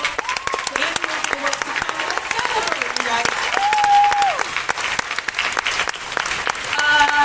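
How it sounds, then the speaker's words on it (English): A Hall H convention crowd at a Walking Dead panel at San Diego Comic-Con 2018 applauds loudly and continuously, with voices and cheers rising over the dense clapping. "So let's give a round of applause to these wonderful people."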